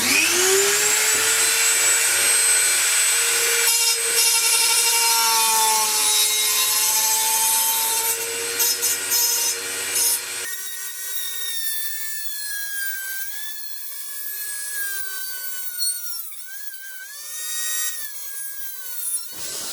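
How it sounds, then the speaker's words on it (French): A Dremel rotary tool cuts a window into a small wood-burning bivouac stove, giving a continuous high-pitched grinding whine that shifts in pitch as it bites, close and loud throughout with no talk. "il ne nous reste plus qu'à découper la fenêtre et pour ça moi je vais le faire au Dremel"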